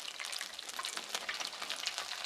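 Onion rings frying in hot oil for a home dinner, a steady dense crackling sizzle with fine popping bubbles throughout, close and even, no talking.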